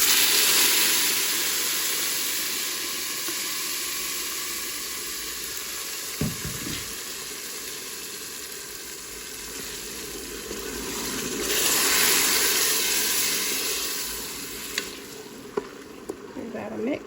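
Sauce poured into rice in a Ninja Foodi Deluxe, a loud continuous sizzle and hiss that swells and fades, with a brief liquid splash and a few clicks near the end.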